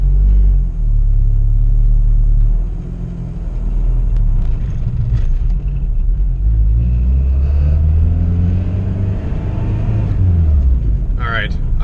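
A built turbocharged B18C1 engine in an EG Honda Civic GSR hatchback drives and revs during tuning, a loud low rumble that rises and falls with acceleration, steady throughout with no talk over it.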